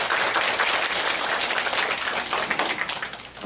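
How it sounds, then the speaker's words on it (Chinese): Parents and children at a weekend science event clap to welcome a teacher, a full, close round of applause that runs steadily and thins slightly at the end. "来，我们掌声欢迎吴立全老师"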